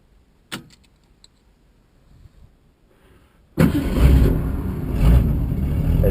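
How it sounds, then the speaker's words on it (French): A 1967 Ford Mustang with an automatic gearbox starts: a few faint clicks and key sounds, then the engine catches abruptly and settles into a loud, rumbling idle close by, with no talking. "je vais vous faire un petit démarrage quand même"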